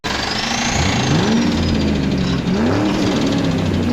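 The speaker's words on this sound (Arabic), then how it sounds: "من الممكن أن يحدث تقطيع في المحرك أثناء السرعة الخاملة" A car engine misfiring and stuttering at idle, running loud and close throughout with a rough, uneven throb and a wavering tone that dips briefly midway.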